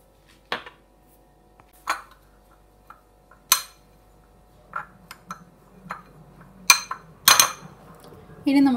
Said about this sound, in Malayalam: ഈ തേങ്ങയിലേക്ക് ആദ്യം ഉപ്പും കുരുമുളകും ചേർത്തൊന്ന് മിക്സ് ചെയ്ത് വെക്കാം